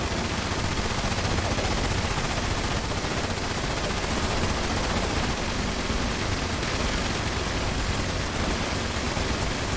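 A Tesla rifle fires continuously in a video game, a dense, unbroken crackle of shots with a steady loudness that fills the whole stretch and has no pauses.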